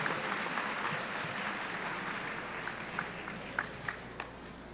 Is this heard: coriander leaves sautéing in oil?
no